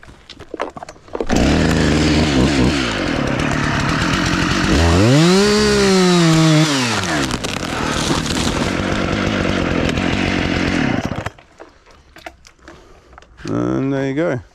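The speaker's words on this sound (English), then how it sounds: "I'll come in and I'll cut just slightly below this. So if it does snap out, it doesn't take my chainsaw with it" A chainsaw cuts into a leaning tree during a back-release felling cut, revving loud and close for about ten seconds with pitch sweeping up and down under load, then cutting out and giving a short final burst.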